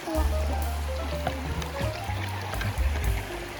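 Strong water rushes and churns at a waterfall in the cool season, a close continuous flow with splashes, while people talk over it.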